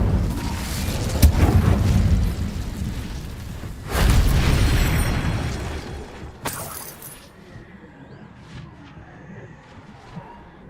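The Incendio fire spell from Hogwarts Legacy bursts out in loud, booming whooshes. Two big blasts are followed by a crackling flare, and the sound then fades to a quieter tail.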